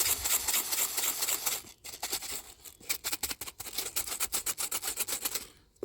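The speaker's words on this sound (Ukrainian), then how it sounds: "Просто відкриваємо, заливаємо, закриваємо назад і розмішуємо." A KARDINAL flat mix carp bait with added liquid is stirred in a closed container, producing rapid rhythmic scraping and rubbing bursts, with a short pause partway through and no voices.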